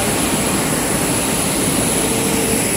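A Batik Air jet airliner at the airfield gives off a loud, steady engine roar that fills the whole stretch evenly, with a faint high whine running on top.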